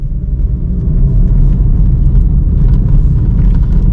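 A car rolling downhill under engine braking without speeding up, giving a steady low engine and road rumble that holds constant and fairly loud throughout.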